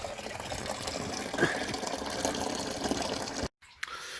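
Faint, steady trickling and splashing of coolant draining from a Mercedes 300D W123 radiator into a container, continuous for several seconds before cutting off abruptly.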